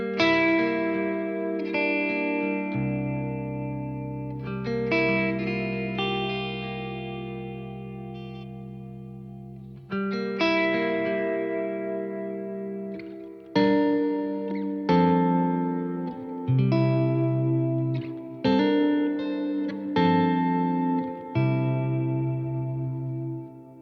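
An electric guitar on a split coil tone is played with reverb and delay, ringing chords and notes repeating and trailing off into a wide, echoing wash, loud and clear with no talking.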